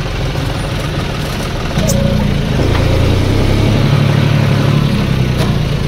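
Swaraj 733 tractor idling while standing and smoking, a loud steady low diesel chug that thickens partway through, with voices talking over it.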